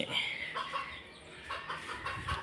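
Desi chickens cluck softly on a small poultry farm where hens breed and lay eggs, a few quiet clucks rising and falling against low background noise.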